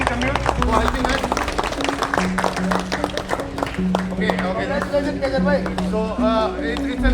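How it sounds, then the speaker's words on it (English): A gathering of Royal Enfield RD 350 club riders gives a round of applause at their ethnic day event, dense clapping from a crowd heard under and between a speaker's amplified talk, with background chatter. "a big round of applause to Big Biking Commune for helping us"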